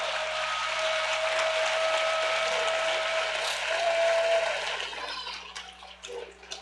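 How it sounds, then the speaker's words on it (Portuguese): A church congregation claps steadily during an evening service, a dense sustained wash of applause at moderate distance that thins and grows patchier toward the end. "Alguém aí nessa noite dá uma salva de palmas para Jesus"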